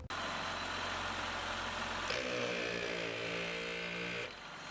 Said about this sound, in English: Now you're ready to turn your compressor on.